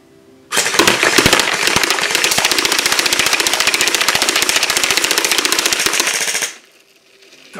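A GSG DBoys airsoft M4 rifle fires full-automatic, a loud, close, continuous rattling burst of rapid shots lasting about six seconds before cutting off.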